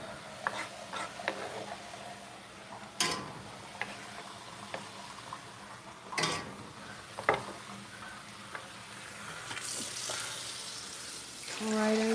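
Garlic sizzles softly in a pan during vegan seitan cooking, a faint continuous fry hiss punctuated by a few sharp utensil clicks and taps, with a brief rise in the sizzle near the end and no voices.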